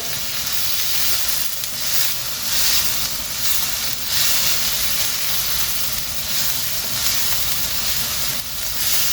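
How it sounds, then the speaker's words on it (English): Steady loud sizzling from king prawns, pineapple chunks and vegetables stir frying in a hot pan, with rhythmic swells of hiss as the contents are tossed and stirred. "Stir frying away."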